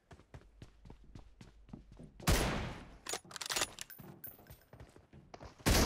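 Sniper rifle fire from an M24 in PUBG Mobile: a sharp report around the two-second mark followed by scattered thuds, footsteps and a second loud shot near the end, with quick ticking steps leading in.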